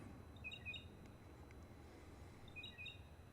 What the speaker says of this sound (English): You hear the birdies chirping?